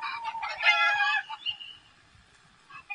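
Chickens and a rooster squawk and crow loudly in a frantic burst of clucking and cackling, the noise trailing off into quieter calls.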